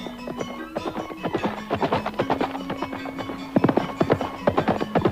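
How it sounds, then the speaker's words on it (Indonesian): Two ridden horses galloping with rapid, rhythmic hoofbeats, loud and steady throughout, with a faint tonal layer underneath. "Kuda yang mereka tunggangi terus melaju."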